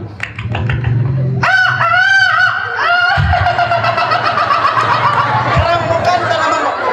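A beatboxer's voice imitates a rooster, with staccato clucks giving way to a loud, wavering crow, then layered, sustained crowing under chuckling, all close and loud.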